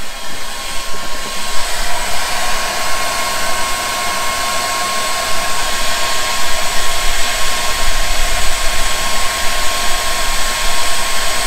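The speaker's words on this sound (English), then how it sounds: "So I got a hairdryer going on this valve, get it thawed out" A hair dryer blows steadily on a frozen water valve outdoors in winter, a continuous close whirring hiss with a faint tonal whine that holds level for the whole stretch.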